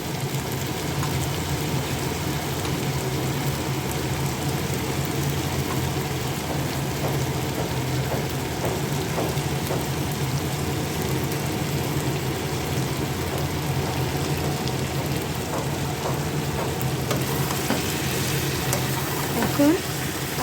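Chicken fries in a pan as boiled potatoes are added, giving a steady sizzle with scattered stirring clatter and scrapes, while a voice speaks over the cooking.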